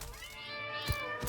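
In the video game Satisfactory, a glitchy cat meows with a drawn-out, wavering, harmonic call that stays close and clear for just over a second.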